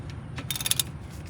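Ratchet with a 14mm socket clicking as it works a lower brake caliper bolt on a 2025 Kia Seltos, a short close burst of rapid metallic pawl clicks.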